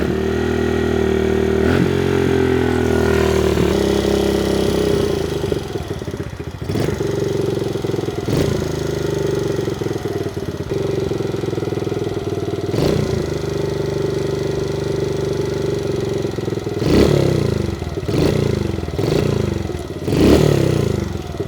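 A pit bike engine with a hanging idle drones steadily up close, holding a raised idle, then later gives several short blips of the throttle with clattering mechanical noise, no voices.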